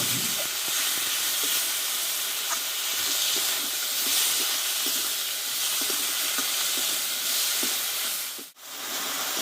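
Spices with salt, tomato and banana flower sizzling steadily in a pan for a Bengali mochar ghonto with kabuli chickpeas, a continuous broad hiss with faint stirring taps and a brief dip near the end.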